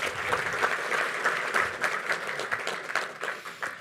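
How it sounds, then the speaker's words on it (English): Audience at an interfaith iftar gathering in a mosque applauds dignitaries and guests, a full, steady round of many hands clapping, loud and close, with no talking over it. "Another round of applause for them, please."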